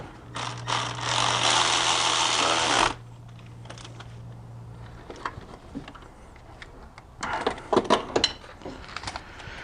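A nut is run onto a cylinder head stud during a Kia Sportage head install, with a steady whirring burst of about three seconds followed by faint ticks and a cluster of quick clicks, close and fairly quiet.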